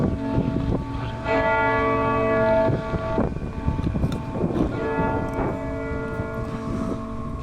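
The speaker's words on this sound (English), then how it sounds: "the cathedral's bell tolls ominously in the background." An early Gothic cathedral bell tolls slowly, its ringing strikes repeating a few seconds apart with long humming decay, heard at a distance through wind noise.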